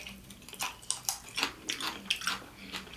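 Crisp, irregular crunches of someone biting into and chewing raw celery while eating, several sharp bites spaced through a few seconds, close and fairly quiet.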